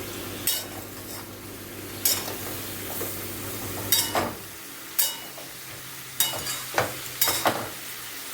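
A spatula scrapes and knocks against a pan in several irregular strokes, stirring garam masala into pointed gourd and potato, over a faint sizzle that fades partway through.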